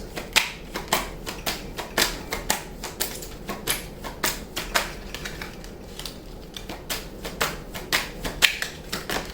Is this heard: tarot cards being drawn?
yes